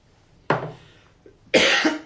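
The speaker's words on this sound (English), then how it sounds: "I've got a little bit of a cough" Two sharp coughs, close by, the second longer and harsher, separated by a brief pause.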